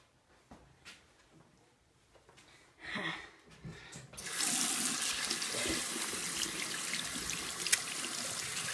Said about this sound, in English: I gotta wash my hands first.